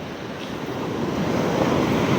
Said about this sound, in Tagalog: Kalalaki ng alo, no?